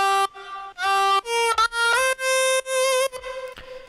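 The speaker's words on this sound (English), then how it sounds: "It's called MDA Talkbox," A melodic vocal line processed through the MDA Talkbox plugin, giving a robotic, buzzy tone: a series of sustained, harmonically rich notes stepping up and down in pitch, separated by short gaps.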